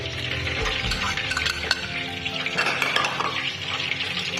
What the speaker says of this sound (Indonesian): Dan kita masukkan keju, kita campurkan semua